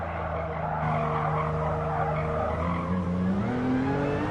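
A souped-up Porsche race car in Gran Turismo Sport roars with a sustained engine drone, rising in pitch while tires squeal and skid steadily throughout, loud and close with no talk.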